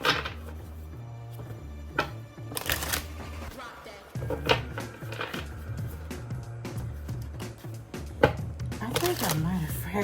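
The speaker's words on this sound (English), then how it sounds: "it is so hard for me to shuffle this deck" A tarot card deck is shuffled by hand in riffling, flicking bursts and soft slaps, while a person talks throughout.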